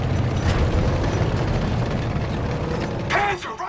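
A tank rumbles in Call of Duty: WWII, a loud, steady low mechanical grinding and clanking of tracks and gears, ending in a sharper metallic burst near the close.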